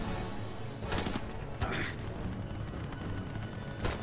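Battlefield gunfire in Brothers in Arms 3 rattles on without a break, dense shots and rumbling blasts layered together, with a few louder cracks standing out near the start and end.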